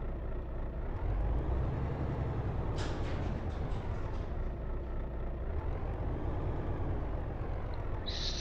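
A truck engine in Euro Truck Simulator 2 rumbles steadily while a sharp burst of air-brake hiss cuts in, with another short hiss near the end.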